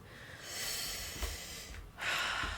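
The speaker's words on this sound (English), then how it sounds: "take one collective deep breath together" A single deep breath taken in and released, a soft, close airy inhale and exhale in an otherwise quiet room, with no talking.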